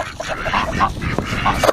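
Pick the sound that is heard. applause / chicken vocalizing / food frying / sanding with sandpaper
chicken vocalizing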